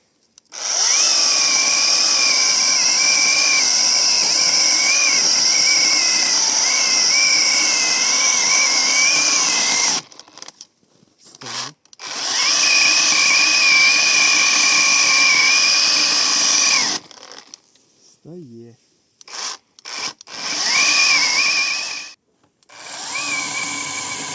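Zegor CSPP-21BL cordless chainsaw, running on a non-original battery, cutting through a thick log: a loud, close, high whining buzz sustained for about ten seconds, then short bursts and stops before another long cut, no talking.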